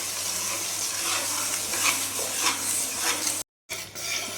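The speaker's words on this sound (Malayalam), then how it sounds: "ഇനി ഇതിലേക്ക് നമ്മൾ അരിച്ച് വെച്ചിരിക്കുന്ന ശർക്കരപ്പാനി ചേർത്ത് നന്നായിട്ട് വരട്ടി വെക്കാം" Strained jaggery syrup is stirred into a dates payasam on the stove, giving a bright continuous sizzle with faint scraping. The sound cuts out briefly near the end and then resumes. It is close and fairly loud, and no one talks.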